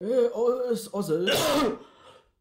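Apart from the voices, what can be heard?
coughing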